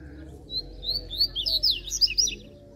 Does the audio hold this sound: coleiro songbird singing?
yes